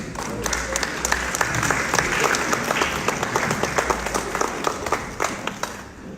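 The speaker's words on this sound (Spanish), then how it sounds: "Por favor, recibámoslos con un fuerte aplauso" A conference audience claps loudly and steadily, dense overlapping hand claps filling the hall, with a few sharper individual claps standing out as the applause slowly thins near the end.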